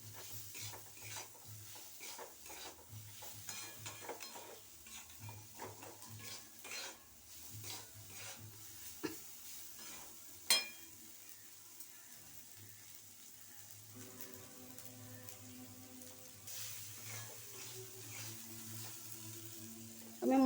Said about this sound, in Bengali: নুন, হলুদ এটা দিয়ে দিচ্ছি আমি, দিয়ে এটাকে ভাজছি ভালো করে